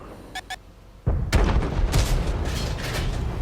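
Artillery fire in World of Tanks: after two faint clicks, a sudden heavy boom bursts out and rolls on into a sustained roar of further blasts and rumbling explosions.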